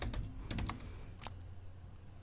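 A database query being typed on a computer keyboard for a Java project in NetBeans: a quick burst of sharp, close keystrokes, a brief pause, then one more tap, all faint and without talk.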